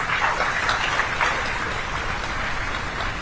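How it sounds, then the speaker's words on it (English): Audience applause at an inaugural ceremony of an international higher education fair, a steady dense wash of clapping holding at even loudness throughout. "Let's give a huge round of applause."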